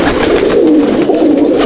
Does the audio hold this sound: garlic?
no